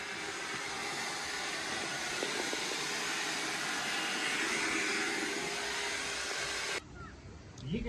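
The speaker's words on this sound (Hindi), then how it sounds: "जो सामान गीला हुआ था वो अब हम सुखा रहे हैं हेयर ड्रायर से" A hair dryer blows steadily on wet riding gear such as gloves, helmet, shoes and luggage, a constant loud whooshing hum that cuts off abruptly near the end.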